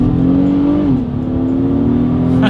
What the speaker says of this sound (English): let's do a quick little acceleration test, and let's see if see how quickly we can get the new MDX here up to speed